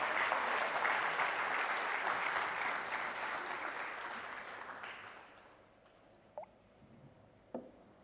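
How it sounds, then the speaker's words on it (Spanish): Church congregation applause, a dense sustained clapping that fills the room for about five seconds before tapering off into quiet, with a couple of faint knocks afterward. "Vamos a dar una ofrenda de palmas."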